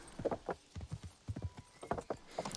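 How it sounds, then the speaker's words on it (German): Horse hooves in the medieval video game Kingdom Come Deliverance, a quick rhythmic clip-clop of a ridden horse at a brisk pace, moderately close and fairly quiet. "Reiten wir doch einfach mal geschwind dorthin."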